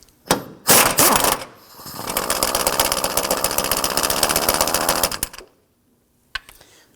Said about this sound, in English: Now we're going to use our 15mm socket to loosen and remove this hardware.